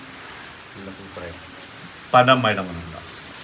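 Steady rain patters in the background throughout, with people talking over it, briefly louder toward the end, on a trip in Wayanad.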